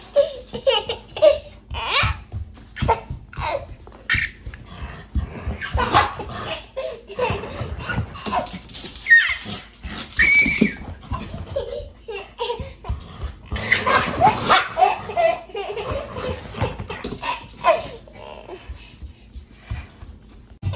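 A dog plays noisily, with a rapid, irregular string of whines, yips, grumbles and whimpering vocalizations, close and fairly loud, while people laugh and giggle in the background.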